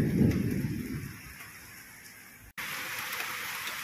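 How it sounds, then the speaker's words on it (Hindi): Heavy rain pours steadily with rumbling thunder during a windy thunderstorm with lightning, loud and close at first, then a brief dropout before the dense rain hiss resumes. "बहुत बारिश हो रही है, बिजली भी चमक रही है।"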